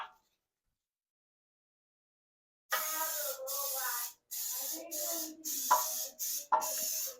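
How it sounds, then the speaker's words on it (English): Cooking spray hisses onto a loaf pan for a protein pumpkin loaf, in a series of close, loud bursts of varying length separated by short pauses, after a silent opening. "I'm going to spray my pan down here."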